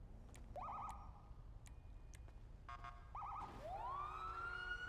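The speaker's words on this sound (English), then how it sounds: "Is the siren on?" A police car siren in the GTA roleplay game NoPixel wails and yelps in short rising sweeps, then climbs into a long rising wail, steady and close with no talk.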